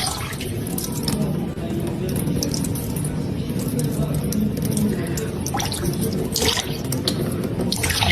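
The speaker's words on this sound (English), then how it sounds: "Выключай воду, Мия." Tap water running steadily into a bathtub where a cat plays, a close continuous splashing stream with scattered drips and light splashes.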